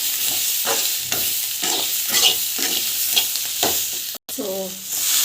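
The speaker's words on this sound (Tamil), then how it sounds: "உளுத்தம் பருப்பு வந்து ஆட் பண்ணி இது வந்து நல்லா வதங்கிட்டோம்" Urad dal and dried chillies sauté in a hot pan with a steady, loud sizzle and the repeated scrape of a spoon stirring, with no talk.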